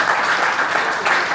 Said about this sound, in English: give us a round of applause for you guys.